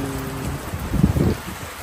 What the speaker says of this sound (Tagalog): Grabe oh, ang lakas ng ulan.